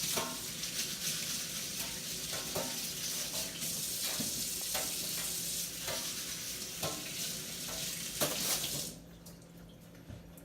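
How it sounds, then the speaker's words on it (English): Ginger root being scrubbed with a chain scrubber under running water, a busy rhythmic scraping and rattling over the flow of a tap, close and steady before trailing off near the end. "we wash it really good. I have this little chain scrubber that I like, so I use it on all of my stuff."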